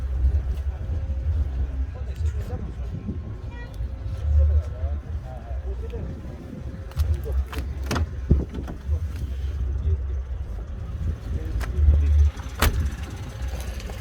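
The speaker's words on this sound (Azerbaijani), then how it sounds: "Bu da maşın arxa səsi." A 2007 Opel Astra with a manual gearbox and 308,000 km idles at a used-car market. Its low, steady engine rumble is heard from the rear while voices talk over it.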